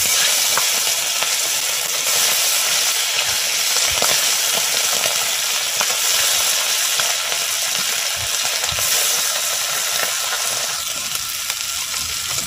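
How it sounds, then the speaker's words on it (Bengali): Fish frying in hot oil in a pan, a steady, close, crackling sizzle lasting throughout, with faint occasional pops and stirring clicks. "এবার মাছটা আমি ভেজে নেব"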